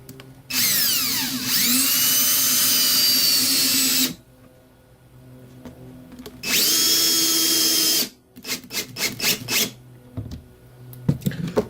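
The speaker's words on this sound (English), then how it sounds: "So I'm going to do about 400 more screws over here" A power drill drives screws into wooden table cleats in long, steady whining runs, two sustained bursts separated by quiet, followed by a series of short rapid trigger pulses, loud and close with no talking.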